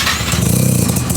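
Honda K24 engine in an Integra Type-R revving hard on a dyno indoors, a loud, steady buzzing drone with pulsing low harmonics through the short burst.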